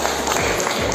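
A crowd of attendees at a Minangkabau community Balimau gathering in Kupang applauds, a dense steady wash of clapping that fills the whole second at an even, fairly loud level.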